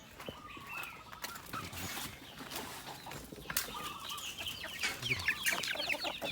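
Black-boned native chickens, Phu Phan black chickens, cluck and crow close by, several birds calling over one another with no talking.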